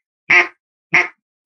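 Two short nasal quacking calls, evenly spaced and fairly loud, a voice imitating a hen mallard with nothing else around them.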